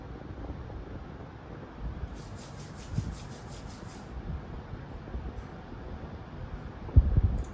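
Soft, steady friction of two hands rubbing together to warm the palms, a quiet continuous rustle close to the microphone, with a faint tonal beeping and a bump near the end.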